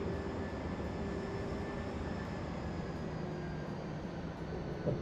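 Steady airliner engine roar with a faint high whine inside the cockpit of a ToLiSs A319 simulated in X-Plane 11, during a flaps 3 landing rollout; the drone holds constant and loud throughout, with a small bump near the end.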